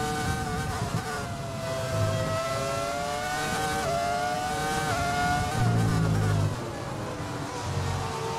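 A Ferrari F2004 Formula 1 engine in the F1 2020 racing game screams at high revs, shifting through gears in a steady rising and falling whine, loud and continuous with no talk.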